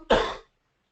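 A single short, harsh cough from a man suffering with a cold, heard close and alone, then silence.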